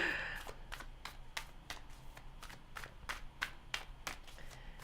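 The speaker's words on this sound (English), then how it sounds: "So let us shuffle it out." A deck of tarot cards being shuffled by hand, giving a run of soft, rapid riffling taps and flicks at a steady rhythm, close and quiet with no talking.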